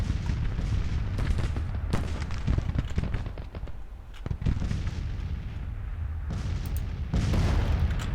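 Booming artillery and crackling musket fire in Grand Tactician: The Civil War, a dense, continuous battle din of repeated deep blasts and sharp volleys, loud and unbroken.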